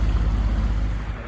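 Sailboat running under engine power through calm Norwegian fjords, a steady low motor drone with faint wind and water wash, close and continuous for a brief moment.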